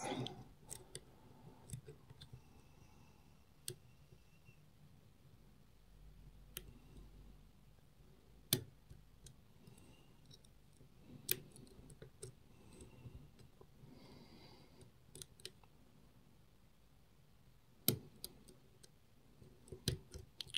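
Faint, sparse clicks and tiny metallic ticks from picking the pins of a small Yardeni Eitan hexagon handbag padlock, scattered irregularly across near-silent stretches.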